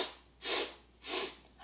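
Two sharp, forceful nasal sniffs drawn in during a yoga breathing exercise, close and loud, spaced about half a second apart with quiet in between.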